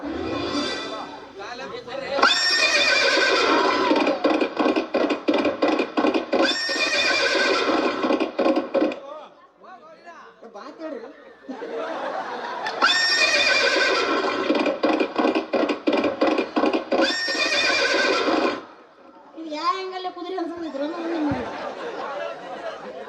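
Horses whinny in long, loud bursts with hoof clatter between them, while people chatter and laugh in the background.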